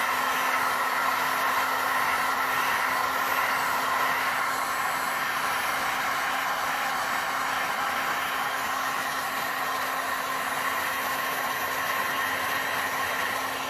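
A heat gun blows steadily on soft resin in a free-form drip bowl sculpture, a constant loud whirring hiss of fan and airflow running without break, with no talking.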